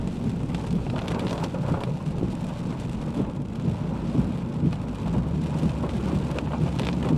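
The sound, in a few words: rain falling during thunderstorm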